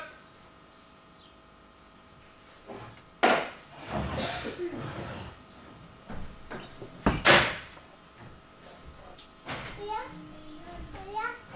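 Sharp knocks on a wooden door come in short bursts between stretches of a voice talking, with some household clatter around them.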